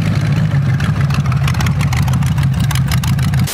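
A small-block Chevy V8 with aftermarket heads and a performance cam idles in a 1928 hot rod, a loud, close, choppy, lumpy rumble with uneven pulses throughout and no talking.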